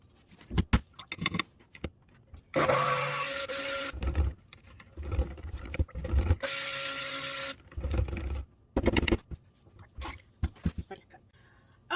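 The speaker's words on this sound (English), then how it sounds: "then we're gonna mix it up again with the stick blender." A handheld stick blender whirs in short bursts through lemon poppy seed cold process soap batter, two longer motor runs separated by clunks, taps and handling noises of containers on a work surface.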